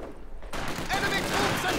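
A German MG42 machine gun in the game Company of Heroes 2 opens up in a sustained, dense burst of rapid fire that continues steadily to the end.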